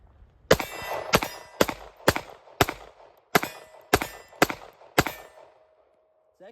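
A Ruger LCP Max pocket pistol with a ReadyDot reflex sight fires Remington ammunition: nine sharp, loud, close shots at uneven half-second gaps, each with a short ringing tail, then quiet.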